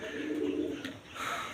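Domestic desi pigeons, some of them Girribaz, coo in a soft continuous murmur at close range, with a brief gap before another low coo, and no talk.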